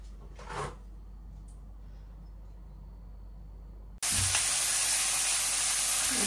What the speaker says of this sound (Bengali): এখন মাছটি ভেজে নিতেছি।